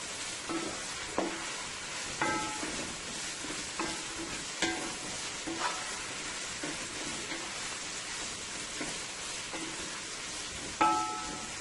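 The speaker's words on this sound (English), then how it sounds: "And you want to fry your spinach on high heat." Fresh spinach and pak choy fry on high heat in a pan, giving a steady, dense sizzle with occasional sharp clicks and taps of tossing.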